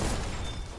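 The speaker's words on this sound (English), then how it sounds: "Oh, those are mines. That's what that explosion is." Explosion of a mine in the video game Armored Core: a loud, dense burst that holds steady and rumbles through under a second, with no voices.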